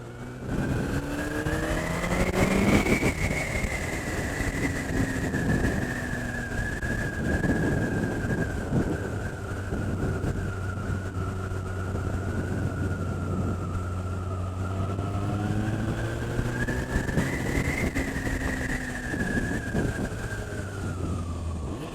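Engine of a 2006 Kawasaki ZX14 sport motorcycle on a road test ride, a steady close drone with rising and falling revs through gear changes and a turn, wind rush constant throughout.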